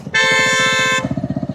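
Vehicle horn on a road near a fish market and beach area, one loud sustained honk lasting about a second over a rhythmic engine chug that continues after it stops.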